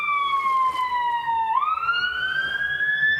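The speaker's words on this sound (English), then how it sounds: "Actually, I'm going to go with a fire engine." A fire engine siren in a guessing game wails steadily, drops in pitch midway, then sweeps back up, loud and close throughout with no talk over it.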